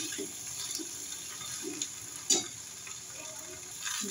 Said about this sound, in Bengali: আমার সব মশলাটা কষানো হয়ে গেছে, এবার ভাজা সবজিগুলো দিয়ে দেবো এর মধ্যে।